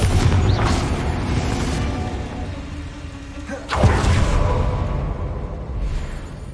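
A Confringo fire spell cast in Hogwarts Legacy hits with a loud whooshing blast. Rumbling combat noise fills the moment before a sharp boom bursts in at the midpoint and rolls away over continuing game sound.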